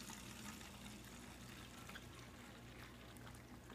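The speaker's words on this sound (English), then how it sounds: "for this dilution rate, you're going to take about 2 cups of water, put" A steady stream of water, about two cups, pours into a small spray bottle to mix a Thieves cleaner dilution, a continuous soft filling rush with no voices.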